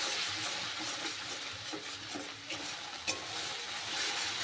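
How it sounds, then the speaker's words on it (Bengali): Spinach and coriander paste is mixed into spices frying in a pan for a fish dish. A steady soft sizzle fills the background under scraping stirs and a few light utensil taps. "আমি যে ধনেপাতা আর পালং শাকের পেস্টটা তৈরি করে রেখেছিলাম, এখন সেটা দিয়ে দেব। ভালো করে মিশিয়ে নিতে হবে।"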